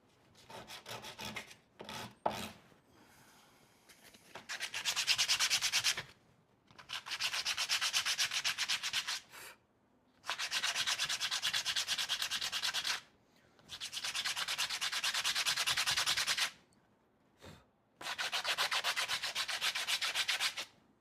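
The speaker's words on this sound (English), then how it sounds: "I'm gonna try to sand the rest of this." Sanding a wood turning on a lathe: five long bursts of loud, close abrasive rubbing separated by short pauses, after a few brief scrapes at the start, with no talking.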